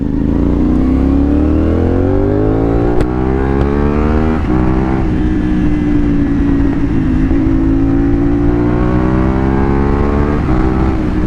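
CFMOTO 450SR motorcycle engine revving steadily under the throttle, close and loud, its pitch rising and falling in smooth sweeps for about eleven seconds with no talking.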